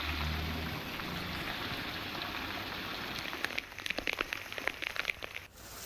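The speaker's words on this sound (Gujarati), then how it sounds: "ધોધમાર વરસાદ પડ્યો છે।" Heavy downpour over the countryside around Khirsara near Rajkot, a steady dense wash of rain with sharper nearby drips and splashes pattering in the latter half, no voices.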